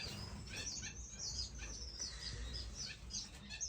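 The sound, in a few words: star finch chirping in nest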